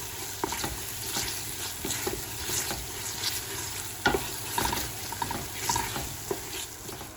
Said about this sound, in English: Cook the paste until smell very aromatic.